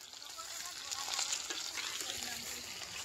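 Chili fries in a pan during outdoor cooking, a faint, distant-sounding sizzle with soft stirring noises that swells slightly midway.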